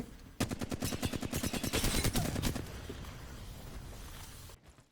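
Automatic gunfire from Apex Legends, a single sustained burst of rapid, evenly spaced shots that rings loud and close before cutting off and fading.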